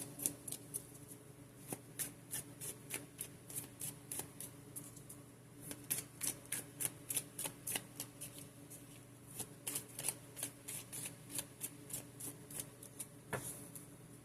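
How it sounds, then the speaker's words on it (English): Tarot cards being shuffled close up, a long run of quick riffling bursts and soft flutters with brief pauses, no voices. "Go ahead and give these a good shuffle as well."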